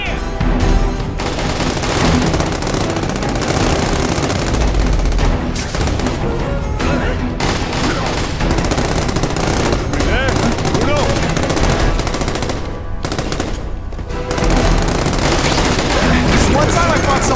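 Sustained automatic gunfire rattles through a fight in The Amazing Spider-Man 2 video game, dense bursts layered with game music and effects, with voices calling out over the din.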